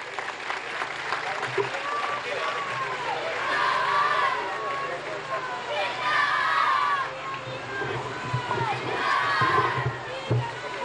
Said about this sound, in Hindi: निवेदन करूँगा परम आदरणीय मीरा कुमार जी से कि वो मंच पर आए, अपने विचार रखें जोरदार तालियों के साथ